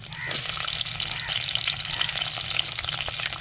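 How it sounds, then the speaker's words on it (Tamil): Chopped onions and curry leaves frying in hot oil for a Tamil-style sardine fish curry, a steady close sizzle and crackle that holds at an even level throughout. "தேவையான கருவேப்பிலை போட்டுக்கிறோம் வெட்டி வச்ச வெங்காயத்தையும் சேர்த்துக்கிறோங்க"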